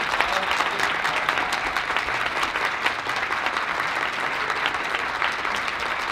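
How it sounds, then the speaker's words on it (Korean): A room of new company employees applauds at an award ceremony as the top team is announced. The clapping is loud, continuous and even for several seconds, with no voices over it. "다시 한번 시간 박수 부탁드리겠습니다."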